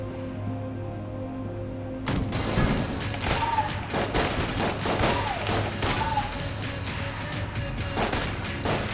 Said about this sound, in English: I hate using sniper bullets on those tiny slimes